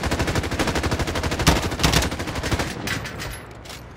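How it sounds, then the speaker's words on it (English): Sustained rapid automatic gunfire on Rebirth Island in Call of Duty Warzone, loud and close, with dense rhythmic shots running throughout and briefly easing near the end. "Lot of bullets."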